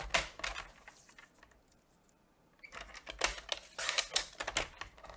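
Cardstock for a handmade card being cut in half: a few crisp, papery clicks and rasps at close range, then a quiet pause, then a denser run of sharp cutting snaps.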